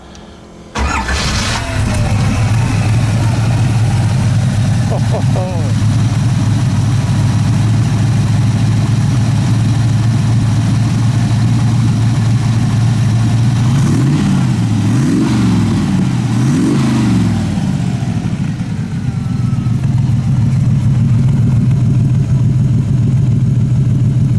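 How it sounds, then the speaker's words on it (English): A Buick 215 aluminum V8 in a 1957 Devin kit car idles loud and close, catching right after startup, then swells through a few quick revs near the middle before dropping back to a steady, rumbling idle. "Give it one more good rev for me"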